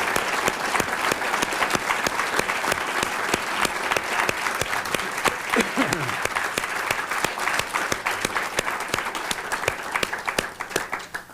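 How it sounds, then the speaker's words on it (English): Sustained applause from a conference audience after a panel discussion on Congress, dense steady clapping throughout, with brief voices mixed in. "I hope that you'll join with me in giving a round of applause to John Anderson and John Rhodes"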